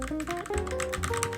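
Close, steady typing on a new Keychron K6 keyboard with an aluminum frame and hot-swappable switches, a rapid run of crisp, evenly spaced keystrokes with a soft thocky tone and no voices.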